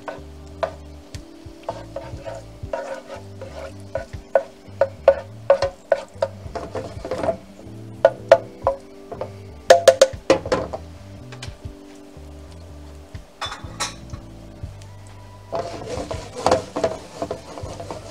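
Sliced garlic fries in oil for Spanish garlic shrimp, a soft steady sizzle under repeated scraping and tapping of a utensil stirring in the pan, with a brighter burst of frying near the end.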